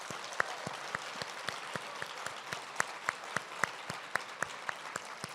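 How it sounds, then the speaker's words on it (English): An audience at a literacy fundraising luncheon claps steadily in warm applause for community supporters, with sharp individual claps standing out over a continuous patter at moderate distance. "If we give them a welcome, resounding applause."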